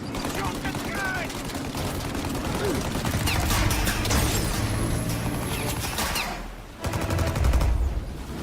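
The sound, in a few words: gunfire in Mafia: Definitive Edition video game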